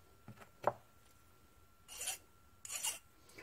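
A file is drawn across a metal part of a 1918 International Type M 1 1/2 hp engine to remove a burr, giving two or three short, bright rasping strokes after a couple of light knocks.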